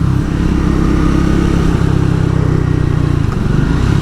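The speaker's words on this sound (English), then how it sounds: "how torquey this little engine is for blitting about town." A 2024 Triumph Speed 400 single-cylinder motorcycle engine runs loud and close in town with a steady low thumping throb, holding a fairly even pace throughout without clear revving.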